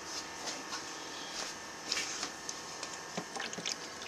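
Soft trickling and dripping as water is poured into a goose egg incubator, with small splashes and squishy sounds, fairly faint and close, with no voices.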